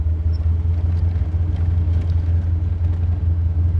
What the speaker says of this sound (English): We're idling nicely, not stalling out.